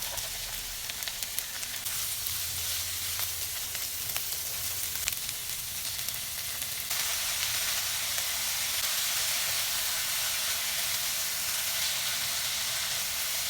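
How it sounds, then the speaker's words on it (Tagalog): Sliced vegetables sauté in hot oil with garlic and onion in a pan, giving a loud, steady sizzle and hiss that grows fuller partway through, with occasional stirring. "igigisa rin po natin dito yung ating mga hiniwang gulay"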